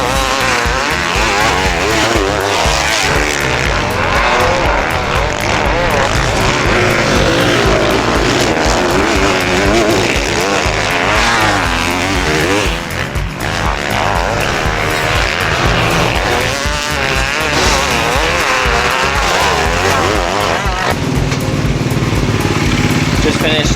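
A 300 dirt bike engine revving loud and close throughout while riding, with the fresh-piston engine rising and falling in pitch as the throttle opens and closes, continuous with no pauses.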